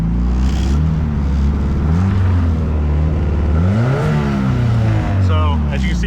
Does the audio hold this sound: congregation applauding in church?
no